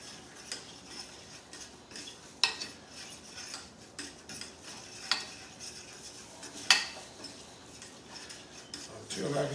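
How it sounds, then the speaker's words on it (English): A spoon stirs flour gravy in a pan on the stove, giving quiet, intermittent scraping and clinks with a few sharper taps against the pan and faint sizzle underneath. "So I'm just continuing to stir."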